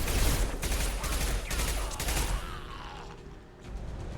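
Gunfire in the video game Mass Effect 2, a loud dense burst of rapid shots over the first couple of seconds that thins out into mechanical clatter and fades toward the end.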